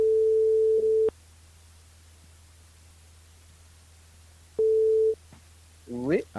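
A telephone line tone sounds as a radio show dials a listener: a steady beep lasting about a second, a long quiet gap with low hum, a second shorter beep, then a brief warbling tone at the end.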